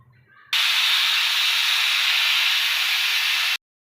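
A pressure cooker holding amaranth greens for a mashed dish lets out one loud, steady steam whistle. The hiss lasts about three seconds, then cuts off sharply into silence.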